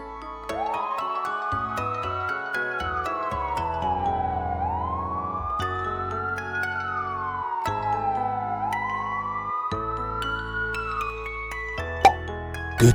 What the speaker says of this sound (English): P for police car.